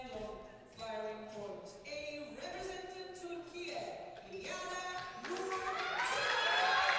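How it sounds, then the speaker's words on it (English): Crowd at a women's junior air pistol European Championship in Osijek, Croatia, cheering and shouting, growing steadily louder over several seconds as an athlete is introduced, with a commentator speaking over it. "Big smiles and a wave and lots of noise from the crowd as well for Eliada Norshukuk."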